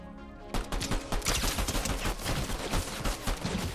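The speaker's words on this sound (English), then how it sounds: "We're gonna have to use this pistol." Rapid pistol shots in a video game played with a $30 controller, a dense run of close, loud cracks firing almost continuously after a short quiet start, with no talking.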